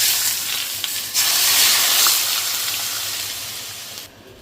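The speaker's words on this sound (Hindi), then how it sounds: "ये गरम सरसों तेल है" Hot mustard oil poured into a paneer tikka marinade, giving a bright, loud hiss and sizzle that swells, holds for several seconds, then cuts off abruptly.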